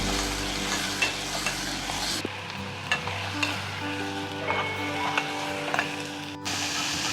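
Masala stir-fried in a pan with salt for a village-style chicken and lentil sambar, a continuous sizzle broken by repeated scraping stirs and light clinks of the spoon.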